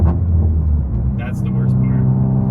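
Stage 1 tuned Volkswagen MK7 GTI exhaust while driving, a deep steady diesel-like drone and rumble, loud and continuous throughout with no letup.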